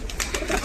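A short, soft burst of cooing from a green male pigeon, heard close by against a low background rumble.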